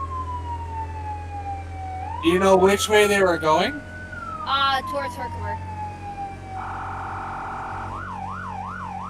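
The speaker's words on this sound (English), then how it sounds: "That was the ambulance." A wailing ambulance siren in a firefighting simulator game, rising and falling with a yelping warble near the end, while two voices exchange a short question and answer over it.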